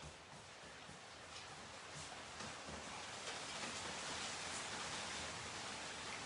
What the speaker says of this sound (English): The rain's just kicked in outside.